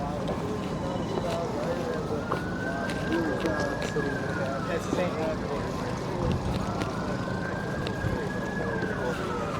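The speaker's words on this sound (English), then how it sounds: "That's a real siren I'm hearing now." An emergency vehicle siren wails in the distance at the Hamvention ham radio event, rising and falling in slow sweeps over steady background noise and talk.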